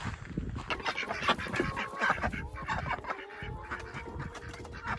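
Several ducks quack and chatter nearby in irregular bursts, mixed with chickens clucking softly in a busy outdoor homestead flock on a snowy, cold morning.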